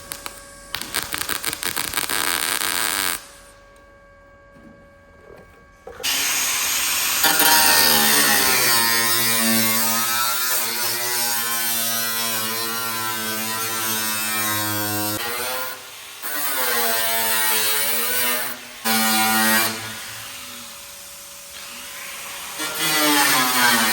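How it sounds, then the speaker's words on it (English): An angle grinder runs against the steel lip of a GTS Monaro's rear clip, whining loudly and steadily with pitch shifts as it bites, after a short pause and restart. "we're going to run the grinder against this lip to create ourselves a gap"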